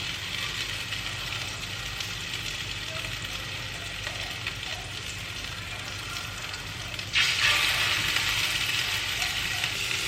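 Large homemade meatballs fry in a pan with a steady, close hiss of sizzling oil that runs throughout and grows a little louder and brighter near the end.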